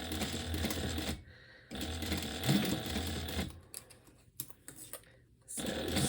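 Sewing machine stitching a sling bag in short bursts, a fast mechanical whirr that stops and restarts several times with quiet gaps and handling noises between runs.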